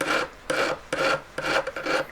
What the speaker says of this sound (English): That's filed and papered.